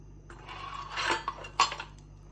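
A spoon stirs besan (gram flour) batter in a bowl, a few clinks and scrapes of metal against the bowl rising over a quiet background, with no talking.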